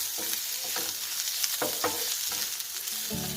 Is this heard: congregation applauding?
no